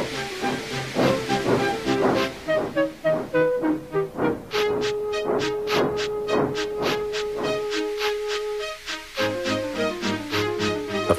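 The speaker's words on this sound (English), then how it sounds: "with much noise and blowing of steam" Rhythmic bursts of steam puffing from a locomotive, loud and close, with a steady tone and hissing blasts building in pace, under background music.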